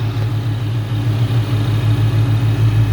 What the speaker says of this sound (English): Car is running and driving.